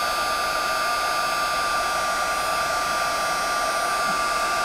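A heat tool blows continuously to melt embossing powder on a watercolor wreath card, a loud, steady, close whirring roar that runs unchanged from start to finish with no talk.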